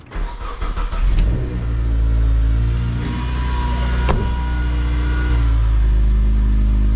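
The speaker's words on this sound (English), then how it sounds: "so I'm going to fire up the car" A Honda Accord Type R CL9 with an exhaust valve open cranks and fires up, then settles into a loud, steady idle close by, with one brief rev partway through.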